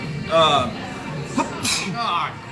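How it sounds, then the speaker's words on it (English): A voice talks, then breaks off into a sharp, loud sneeze with a breathy burst, followed by more talking right afterward. "I'm gonna sneeze."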